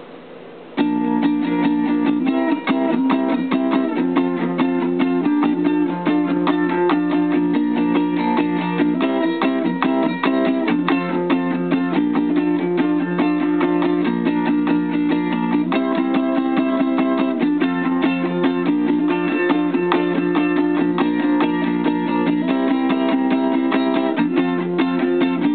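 Ukulele strumming the chords of a song in a steady three-beat pattern, close and loud, continuous from start to finish with no voice over it.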